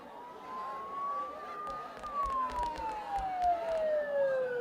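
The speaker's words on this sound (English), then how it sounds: "Don't those sirens sound really close?" A siren in the video game Persona 4 Golden wails with a rising and falling tone at a moderate distance over a low background rumble, with faint clicks and no speech.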